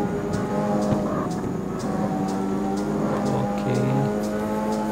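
Steady engine drone of a car drifting in the CarX Street racing game, a sustained revving tone with pitch shifts and faint tire noise, with a brief spoken word near the start.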